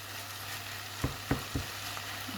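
A stuffing mixture with parsley and coriander cooking in a pan, a soft continuous sizzle broken by three quick utensil taps or scrapes close by, with no one talking.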